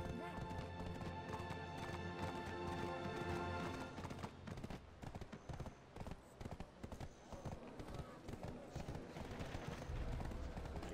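A horse's hooves clip-clop steadily in the online game Black Desert Online, a continuous rhythmic trotting beneath loud game music that fills the whole stretch.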